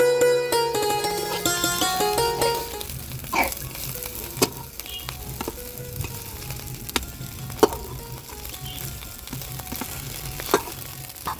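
Semolina snack pieces fry in a pan with a moderate, steady sizzle and occasional sharp crackles and pops, following a brief stretch of music.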